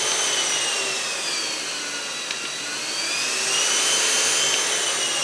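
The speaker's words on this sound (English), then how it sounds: "with this on-off button, you can use the vacuum" A Grundig VCH 9832 cordless stick vacuum cleaner runs steadily with a high, whining motor hum that dips slightly midway and then rises again, heard close up with no talking.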